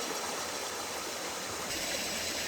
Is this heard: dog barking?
no